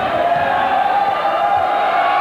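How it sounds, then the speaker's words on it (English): A packed gym crowd at a 1983 high school basketball tournament championship final roars loudly and continuously, a broad sustained din of cheering and yelling without a break. "A lot of noise from this crowd."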